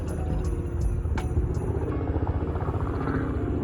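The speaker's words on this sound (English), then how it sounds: "but I'm having to listen to a helicopter" A helicopter passes overhead as a continuous low throbbing rumble, steady and moderately loud, with a few faint high clicks early on and no speech.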